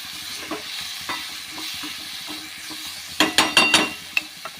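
Onions with a little salt frying in a pan before soybeans go in keep up a low sizzle under soft stirring, and a quick burst of metallic scrapes and clatters comes near the end, close and clear with no talking.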